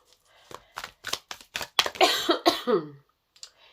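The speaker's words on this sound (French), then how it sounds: "toujours cette toux, c'est pénible" A series of short, sharp coughs in quick succession, followed by a longer raspy clearing of the throat, close up with a faint click near the end.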